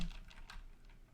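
Soft, quick keystrokes on a computer keyboard, a short run of close, light taps with no voice.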